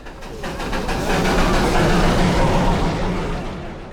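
The Darjeeling toy train rumbles past near the Ghum war memorial, a low clattering roar that swells in and holds steady before easing slightly, heard from nearby with no talking.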